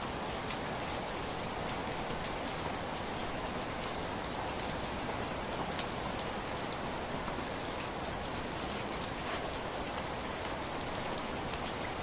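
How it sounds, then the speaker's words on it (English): Steady rain patters on a night sleeper train, a dense even hiss of drops with scattered louder taps, constant throughout and with no voices. "listening to the song of the rain"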